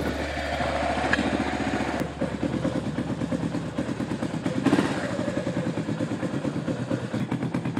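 KTM 990 Adventure motorcycle engine running in reverse gear: a steady, close, pulsing engine throb with rhythmic clatter, holding level throughout with a brief rise near the middle.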